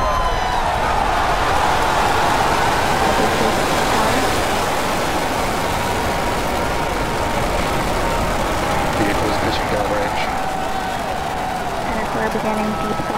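SpaceX Falcon Heavy rocket engines roar at lift-off, a dense, continuous, loud broadband rumble with crackle, steady throughout, with a voice faintly heard over it.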